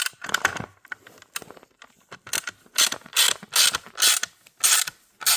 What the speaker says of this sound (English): tighten it down with an Allen key